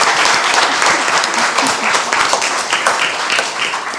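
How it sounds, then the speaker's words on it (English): Audience at a panel discussion on Indian children's literature breaks into a dense, sustained round of applause, steady and loud throughout with no voices over it. "a big round of applause"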